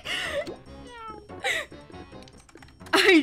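Cartoon cat meows in the Toontown Rewritten video game, several distinct, fairly close meow calls spread through the stretch, with a louder, harsher final yowl near the end.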